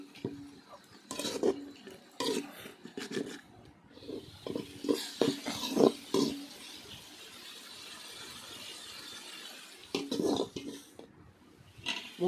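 Ground ginger-garlic paste being stirred continuously in a pan for country chicken soup: wet, irregular scraping and sloshing strokes with a spoon, close and moderately loud, with a brief softer stretch in the middle.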